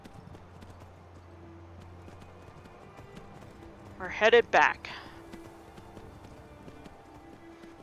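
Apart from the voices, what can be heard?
horses galloping in video game Skyrim VR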